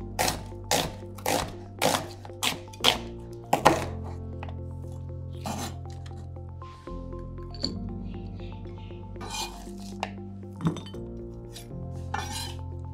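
Knife slicing thinly through half a Holland onion on a board, a run of crisp evenly spaced cuts at first, then scattered softer chops and clinks of kitchenware, close and clear with no talk.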